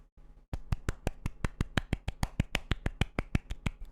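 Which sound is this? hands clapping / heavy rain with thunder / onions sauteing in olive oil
hands clapping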